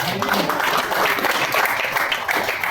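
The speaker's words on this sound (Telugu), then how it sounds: "చప్పట్లు పట్టండి" A church anniversary audience claps in a dense, continuous burst of applause, loud and close, lasting a few seconds.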